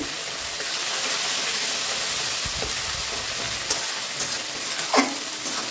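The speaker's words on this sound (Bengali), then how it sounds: "মশলাটা কষিয়ে নিয়ে" Spice masala with salt frying in a pan, made without onion or garlic: a steady, close hiss of sizzling oil fills the whole stretch, with a few faint stirring knocks near the end and no voices.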